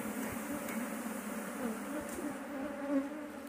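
Honeybees buzz in a dense, continuous hum at an opened beehive during a colony split, steady and close throughout with no talk.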